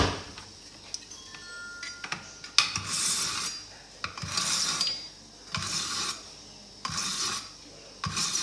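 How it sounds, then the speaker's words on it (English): Kitchen knife sharpened for chicken adobo prep: repeated rasping strokes of the blade, several broad scraping passes in a steady rhythm, close and fairly loud, with no talking. "You always want to start off with a sharp knife. So I'm going to go ahead and do that now."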